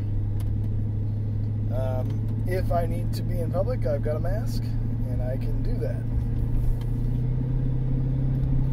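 Jaguar car driving, with a low, steady engine and road rumble running continuously beneath someone talking close by inside the cabin.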